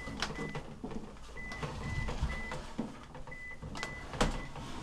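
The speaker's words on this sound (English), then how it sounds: "That's the phone. I'm not answering it" A telephone rings softly several times at a steady interval, faint and somewhat distant under room noise and handling sounds during a home PC build.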